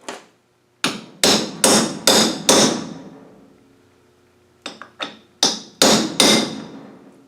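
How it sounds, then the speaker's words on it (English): Hammer taps land on shift linkage plugs, struck in the middle to spread them: a quick run of five ringing metallic blows, a pause, then another cluster of six, each one sharp and close. "I'll give them a little tap in the middle and it'll open them out a bit"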